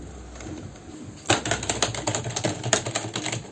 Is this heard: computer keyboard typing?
yes